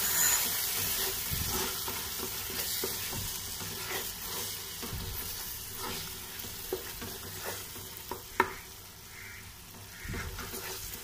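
Biryani masala with turmeric, garam masala and yogurt sizzles in a pan for a Kozhikode beef biryani, with a steady close frying hiss broken by soft, irregular scrapes of stirring and a few sharp clicks, no voices.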